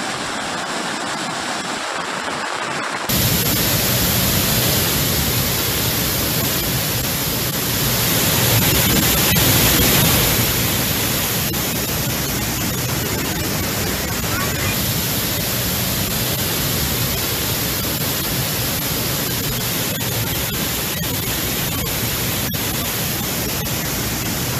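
Floodwater surges into houses during heavy Kerala floods in Wayanad, a loud, unbroken roar of rushing water that kicks in sharply after a quieter moment and holds steady to the end, with no voices.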